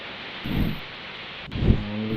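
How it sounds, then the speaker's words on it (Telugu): Steady rain hisses throughout while two deep gusts of wind buffet the microphone, one early and one near the end. "గాలి వర్షం"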